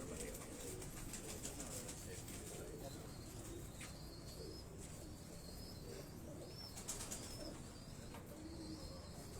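Teddy pigeons coo softly and intermittently in a loft, faint against a constant broadband background hiss, with occasional chirps.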